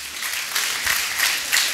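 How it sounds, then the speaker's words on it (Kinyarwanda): Audience applause for a choir after a song, a steady broadband clatter of many hands clapping at moderate loudness, swelling slightly in a few bursts across the short stretch, with no talk over it. "mu mpera amashyi korari maze kuririmba"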